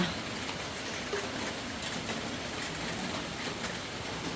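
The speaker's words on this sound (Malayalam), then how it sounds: "മഴയാണ് ഗൈസ് മഴ" Steady, soft hiss of rain falls continuously, an even wash of noise with no voices.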